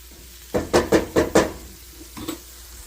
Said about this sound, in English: we just dumped our pint of red beans in there